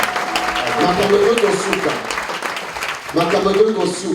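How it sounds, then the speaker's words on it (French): French-speaking church congregation cheering and applauding during a sermon, a broad crowd roar with clapping under a preacher's sustained sung or shouted voice, swelling again toward the end. "Que quelqu'un acclame pour le Seigneur."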